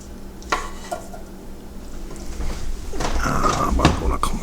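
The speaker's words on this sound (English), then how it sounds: "we're going to dump it into the pan and then stir it all around to get everything coated really well" Pork chops get tumbled and stirred in a pan to coat them, with clattering metal-on-pan scrapes and knocks that grow busier toward the end, near and moderately loud.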